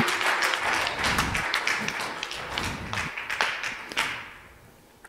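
A church congregation applauding and acclaiming God, with dense, sustained clapping and scattered cheers that stay loud for most of the stretch, then thin out and fade toward the end.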